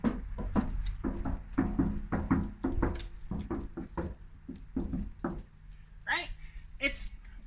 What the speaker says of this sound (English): when you listen to my car when I knock on it